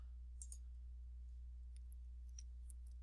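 A computer mouse clicking softly a few times, faint and sparse over a strong steady low hum, with no talking.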